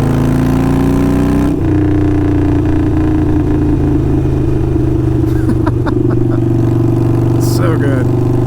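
A Harley-Davidson Sportster 48 with Kinetic 540 Laterals exhaust burbles close by as it decelerates, its deep engine note dropping in pitch after an early shift and then rumbling steadily with crackles and pops.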